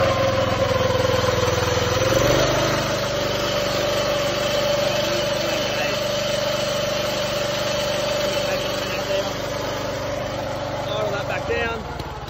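Briggs & Stratton engine on a Cox cylinder mower, idling and then rising to a higher, steady drone, loud and close, before easing back down near the end, with speech over it.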